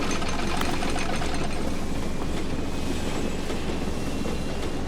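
The Bucket Destroyer machine from the video game The Stanley Parable runs with a loud, dense mechanical rattle and clatter, continuous and unbroken for the whole stretch, close and alone.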